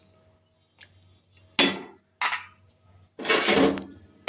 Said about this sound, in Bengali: আবারও ঢাকা দিয়ে দিলাম বন্ধুরা